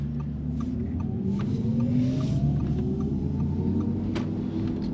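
An Audi RS e-tron GT electric car under acceleration, its synthetic drive sound rising in steady sweeping tones over road rumble, loud and continuous for several seconds.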